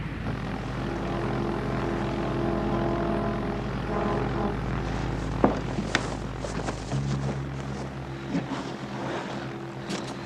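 A propeller airplane engine warming up idles and rumbles steadily, then its pitch shifts midway; a few faint clicks and knocks sound over the continuous drone.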